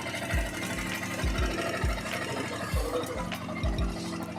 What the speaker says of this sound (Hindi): अभी इसको स्टार्ट करके देखेंगे कि वो वाला साउंड जो था वो कम हुआ है क्या नहीं।